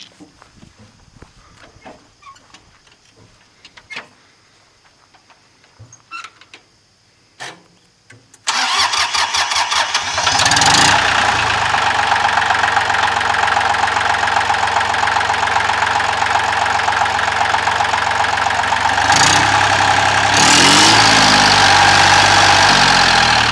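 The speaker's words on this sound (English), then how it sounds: "Go ahead and start her up for us, Tim." A Ford 1710 compact diesel 4x4 tractor with a ROPS bar cranks over after a few faint clicks and knocks, catches, and settles into a loud, steady, close diesel idle with brief revs near the end.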